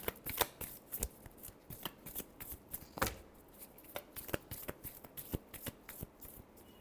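Tarot cards shuffled by hand in a rapid run of crisp riffling snaps and soft slaps, close and clear, with no talking over it.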